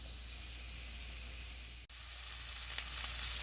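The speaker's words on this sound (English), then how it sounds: "So let these sear for about 2 minutes." Beef short ribs sear in a pot before braising, giving a soft, continuous hiss of sizzling fat with a brief dropout partway through and a few faint pops near the end.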